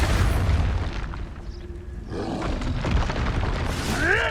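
Spell blast in the Hogwarts Legacy game, a booming explosive burst that rumbles loudly through the whole stretch, swelling again near the end with a shrill whine over the roar.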